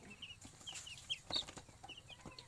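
Newly bought chicks in a warm brooder on a small farm, giving soft, scattered high peeps and chirps over a low background hum, fairly quiet and close, with no talking.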